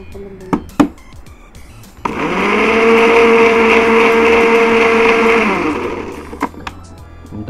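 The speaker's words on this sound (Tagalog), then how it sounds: "I-blender ulit natin to. I-blend natin hanggang sa matunaw." A blender whirs loudly for several seconds with a steady motor hum, starting abruptly and winding down, with brief clatters before and after.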